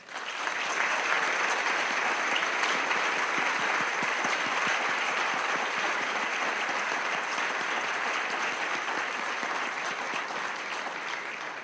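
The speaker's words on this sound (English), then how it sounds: "Please join me in offering all of our leaders in prayer today a warm round of applause." Warm round of applause from an audience at an interfaith service, dense steady clapping that sustains at full strength for about ten seconds before easing slightly at the end.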